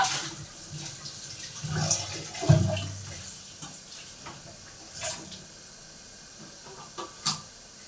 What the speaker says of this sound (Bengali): আর এদিকে আমি পটলগুলোকে একটু ধুয়ে রাখি।